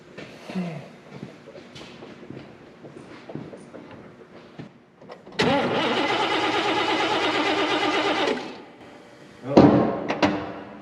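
Flathead-adjusted engine of a Chevrolet El Camino running with its throttle raised, a loud steady roar holding for a few seconds between quieter idle and clunks, with a brief sharp burst near the end.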